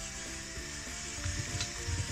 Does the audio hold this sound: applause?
no